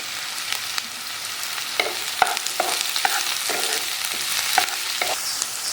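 Chopped ridge gourd frying with sautéed onion in a hot pan, a steady close sizzle broken by repeated spoon scrapes and stirring clicks in an uneven rhythm, no voices.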